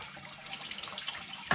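Water runs out and drains into a bucket during a water pump replacement on a B95, a short, faint, steady trickle and splash ending in a slightly louder spill.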